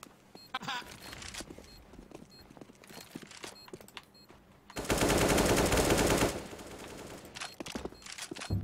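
Rapid automatic rifle fire from a Counter-Strike match on the old Dust2 map, with scattered shots and a loud sustained burst in the middle, while players talk over the gunfire.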